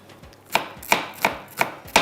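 Onions being finely chopped with a knife on a board, five crisp, evenly spaced chops, close and clear with no talk.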